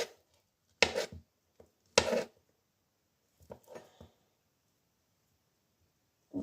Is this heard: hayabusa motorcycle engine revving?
no